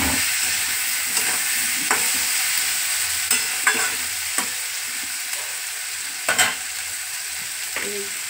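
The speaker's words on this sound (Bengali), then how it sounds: "হলুদটা একবারে দিয়ে দিচ্ছে, দিয়ে এই আলুটা পেঁয়াজটা একটু ভাজা ভাজা হলে তারপরে আদা বাটা দেবো।" Potatoes and onions fry with turmeric in a pan, giving a constant hissing sizzle broken by occasional sharp scrapes and clacks of stirring. No one speaks.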